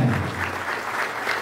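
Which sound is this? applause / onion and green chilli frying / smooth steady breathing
applause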